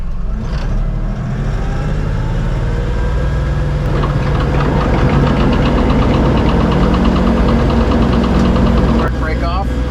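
A tractor engine revs up from idle with the PTO engaged, a loud, steady mechanical drone with knocking texture that rises and holds throughout.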